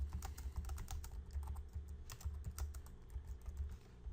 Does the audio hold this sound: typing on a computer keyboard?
yes